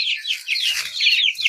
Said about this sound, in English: You don't mess with the hens.